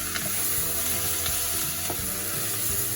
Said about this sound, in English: As you can see, onions are starting to go brown. They're starting to catch at the bottom ever so slightly